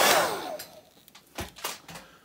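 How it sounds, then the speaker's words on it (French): A small hair dryer blows loud and close at the start on a stiff joint of a 1/12-scale Mythic Legions toy figure, then fades into softer bursts and handling clatter. "Donc, comme toujours, le petit sèche-cheveux."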